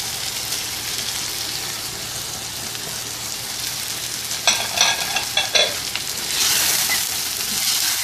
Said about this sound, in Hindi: इसको फिर से हम 3-4 मिनट ऐसे ही भूनेंगे।